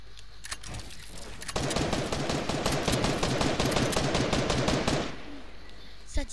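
Rapid automatic gunfire in a video game, a dense unbroken burst of shots lasting several seconds, loud and close, with a few isolated shots before and after.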